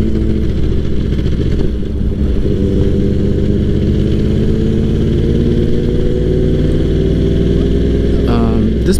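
A Yamaha R1 Anniversary Edition motorcycle rides along with a steady, loud engine drone that holds throughout, its pitch shifting slightly as it cruises, with wind rumble mixed in.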